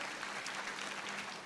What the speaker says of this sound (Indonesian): Percaya kita tepuk tangan yang paling meriah bagi Yesus Kristus Tuhan kita.